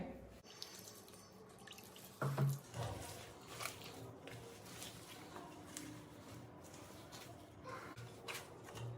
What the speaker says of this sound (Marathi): यामध्ये आपण अजून गरम पाणी घेऊया